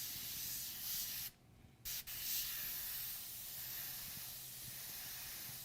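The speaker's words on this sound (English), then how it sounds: "I will spray very, very soft, very light." A soft, steady hiss of spray paint runs under faint room noise, briefly stopping and restarting before continuing gently.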